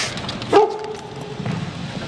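A dog gives a single short bark or yip, mid-distance, over steady background noise with no talk in the moment.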